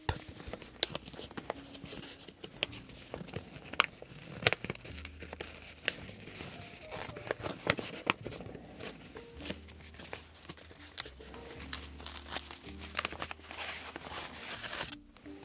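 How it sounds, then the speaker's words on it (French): Paper envelope handled up close, with soft crinkles, rustles and scattered sharp crackling taps in an irregular rhythm, quiet and intimate with no speech. "Ce n'est que l'enveloppe."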